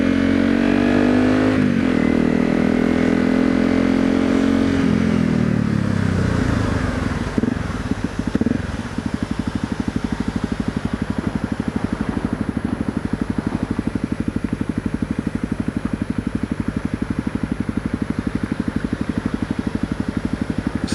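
A Honda CRF250L with a Yoshimura RS-4 exhaust revs up sharply, then drops to a deep, throaty idle that burbles steadily with a rough, pulsing rumble.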